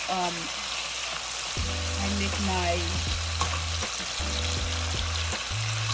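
Beans sizzle and fry in a pan for Haitian black mushroom rice (diri djon djon), with steady loud crackling and occasional stirring scrapes, close up and with no talk.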